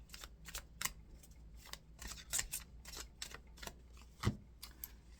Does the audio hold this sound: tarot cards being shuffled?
yes